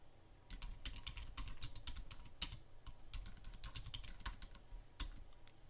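Quick, uneven bursts of clicks from a computer keyboard being typed on, close but fairly quiet, coming in short runs with brief pauses and no voices.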